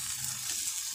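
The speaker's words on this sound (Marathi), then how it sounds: "आता ही परतलेली कारली यात टाकून द्यायची आणि अलगद हाताने" Sautéed bitter gourds sizzling in a pan while being stirred in, a steady bright hiss for about a second, fairly close and without talk.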